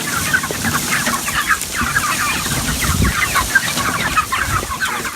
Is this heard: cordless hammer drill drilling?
no